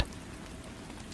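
Steady rain falling on a surface, a dense even hiss of drops, constant and moderately soft with no voices.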